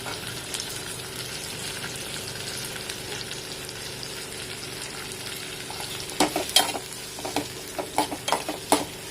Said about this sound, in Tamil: தக்காளி லேசாக வெந்ததும் இது கூட நம்ம இஞ்சி பூண்டு நறுக்கி வச்சுருக்கதை போட்டுக்கலாம்.